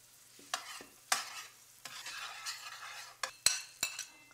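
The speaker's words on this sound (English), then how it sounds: "I'm just going to turn it around in the pan, give it a stir or two" Hot peppers, onion and garlic frying in a pan for shrimp saganaki are turned with a utensil, giving a soft sizzle under a handful of sharp scrapes and knocks against the pan, close by with no voices.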